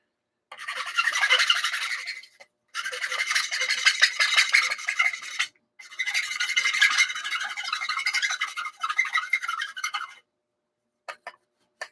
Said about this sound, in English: That's obviously a file, not sandpaper.